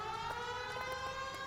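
An ambulance siren in the video game L.A. Noire wails steadily in a held, tonal cry, fairly faint and distant, with no talk over it.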